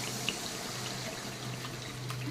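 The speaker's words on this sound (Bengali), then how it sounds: "এর ভিতরে আমি কিছুটা জল দিয়ে দিচ্ছি।" Water poured into ground mustard mixed with salt makes a soft, continuous trickle and splash, close and fairly quiet, with no voices.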